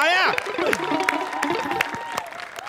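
An audience gives a burst of applause for award winners on a Marathi comedy stage show, with claps and crowd noise mixed under a voice, starting strong and fading down.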